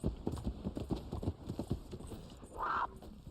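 Rhythmic galloping hoofbeats of a horse in the video game Red Dead Online, fairly quiet, followed by a brief higher whinny-like cry near the end.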